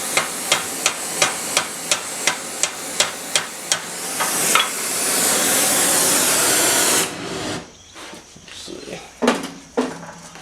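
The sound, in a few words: hammer peening heated steel, blacksmith forging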